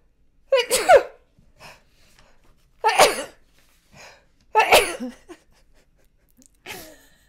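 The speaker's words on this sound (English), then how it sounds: "I'm going to sneeze." Three loud sneezes close up, each preceded by a sharp intake of breath, spaced a couple of seconds apart, with quiet breathing between.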